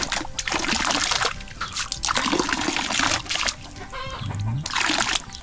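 Water pouring into a backyard tilapia fish pond, loud splashing and gushing in uneven bursts close by, with brief dips between surges and faint low sounds underneath.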